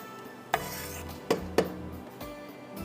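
Fried soya nuggets are stirred into a pot of pulao, with three or four distinct scraping clanks of a spoon against the pot over a soft, low background, and no speech.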